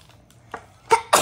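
A single sharp sneeze bursts out after a short quiet intake, followed by a brief second burst, close and loud.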